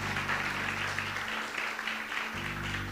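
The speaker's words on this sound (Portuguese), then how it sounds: "Pode aplaudir ao Senhor Jesus" A church congregation claps together at a Sunday service, a dense, even roll of applause filling the room from start to finish, with a low musical hum underneath.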